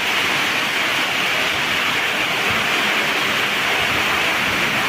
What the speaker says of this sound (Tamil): தண்ணி பாருங்கள் எப்படி வருது பாருங்க, வெளியிலேருந்து காட்டாட்டு வெள்ளம் மாட்டாக வருது.